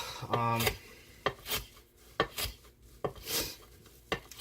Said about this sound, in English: definitely, I think a coarse edge helps in cutting rope quite a bit, actually